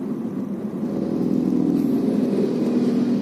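Muffled low rumble of a passing jeep hardtop heard from inside a closed Honda Brio Satya on the road, swelling steadily and staying fairly subdued through the cabin.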